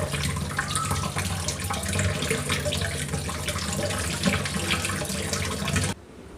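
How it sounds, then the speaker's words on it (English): Chhena, fresh curd cheese for rosogollas, is rinsed under a running kitchen tap: a steady close splashing water stream that stops abruptly near the end. "we will be washing the chhena under running water"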